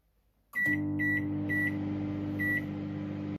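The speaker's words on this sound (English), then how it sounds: "our bag is going in the microwave" A microwave oven starts up and runs with a steady low hum, with a few short beeps near the start, while heating a bag holding a human-hair wig.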